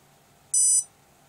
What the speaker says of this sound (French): Donc 4 bips pour nous dire qu'on est en mode calibrage